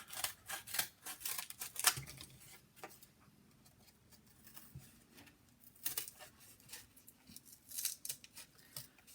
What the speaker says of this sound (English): Let's cut this off.